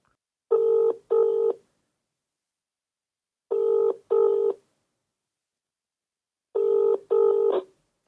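A phone number is dialed and the call rings unanswered, three evenly spaced paired ringback bursts with silence between them, loud and clear with no voices.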